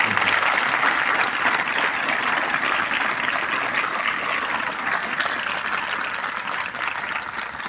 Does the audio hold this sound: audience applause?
yes